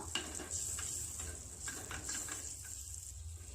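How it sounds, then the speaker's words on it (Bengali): Chopped garlic frying in butter in a bowl, made for a chicken rice dumpling dish, gives a steady, soft sizzle with light stirring scrapes, faint and close with no voices. "একটা বাটিতে বাটার নিয়েছি দিয়ে এর মধ্যে আমি রসুন কুচি দিয়ে দেব"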